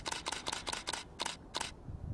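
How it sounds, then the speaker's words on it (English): A DSLR camera shutter fires a rapid burst of seven sharp, close clicks, evenly spaced at first and then slowing, before falling quiet. "you'll hear it take a burst of photos and then it slows right down"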